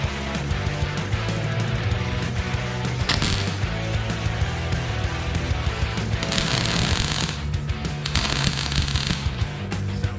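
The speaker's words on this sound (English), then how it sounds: "let me weld all these things up." Welding on a car's rear end parts, a continuous crackling, sputtering buzz with a few brief louder bursts, steady and close for about ten seconds with no talking.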